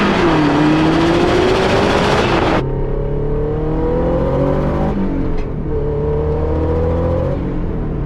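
A sports car engine revs hard and loud, then drops into a lower, fluttering idle with a few quick throttle blips, close by.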